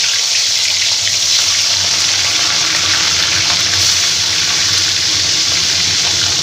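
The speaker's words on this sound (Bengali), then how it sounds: "এতে সর্ষের তেল দিয়ে দিয়েছি মাছগুলোকে এবার হালকা করে আমি ভেজে নেব" Katla fish pieces fry lightly in mustard oil, producing a loud, constant broadband sizzle that stays even and close throughout with no voices.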